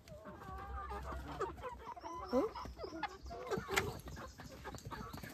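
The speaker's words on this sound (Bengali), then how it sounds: "এবার মুরগি ধরাধরি হবে।" Chickens at a poultry seller's home cluck and squawk in agitated, overlapping bursts as they are grabbed and caught, with close, busy movement throughout.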